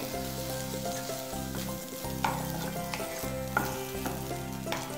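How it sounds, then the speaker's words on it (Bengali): Ground shrimp paste fries with salt and spices in a pan, giving a steady, close sizzle with a few soft stirring scrapes and no talking. "নুন আর সব মশলার সঙ্গে বেটে রাখা চিংড়ি মাছগুলো খুব ভালো করে ভেজে নিলাম"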